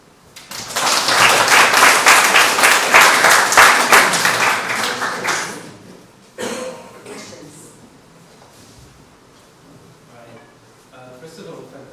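A loud burst of applause from a crowd lasts several seconds, then fades into quieter room sounds with a few scattered claps.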